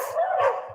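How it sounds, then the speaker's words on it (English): A dog barks three times in quick succession close by, short sharp yaps at a steady rhythm, loud and alone with no talk over it. "Sorry for that barking."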